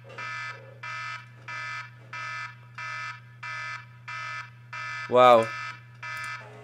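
Race alarm in a racing video game, a loud electronic buzzer pulsing in regular on-off bursts over a steady low hum, with a short exclamation from a voice partway through.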